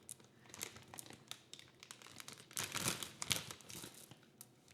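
Close crinkling of a bag of Skittles candy comes in irregular bursts, with sharp crisp crackles and rustles that grow denser and louder midway before tapering off, and no talking.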